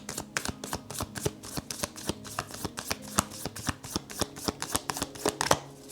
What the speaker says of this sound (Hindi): तो शफल करते हैं ऑप्शन 3 के लिए